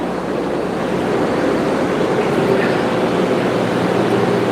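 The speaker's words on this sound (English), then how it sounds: "There is a lot of noise from the train" A Malaysian train gives off a constant loud rumble and roar, steady throughout and close by, with a windy, wash-like texture and no talking.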